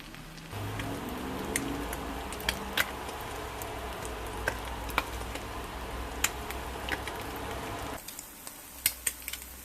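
Korean fried rice stirred in a hot pan, a continuous sizzle with scattered scraping clicks of the utensil, the frying dropping away sharply near the end leaving a few faint taps.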